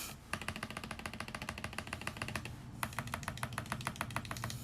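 Typing on a mechanical keyboard fitted with Boba U4T switches and SA keycaps, with quick, fairly even clacking keystrokes in a steady close-up run and a brief pause midway, quiet overall.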